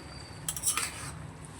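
A metal lid lifts off a pot of simmering mixed-vegetable curry with potatoes: a brief clatter and clink of metal about halfway through, set against quiet kitchen background.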